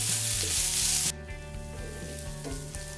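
Onions and tomato sauté in a pan for egg chilli. A loud close hissing sizzle cuts off abruptly after about a second to a quieter simmer with occasional soft stirring scrapes, with no talking.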